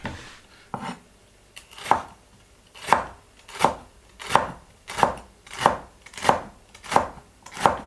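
Knife chopping celery and spring onion on a cutting board, a few scattered cuts at first, then a steady run of sharp, close chops at a regular pace, roughly one every 0.7 seconds.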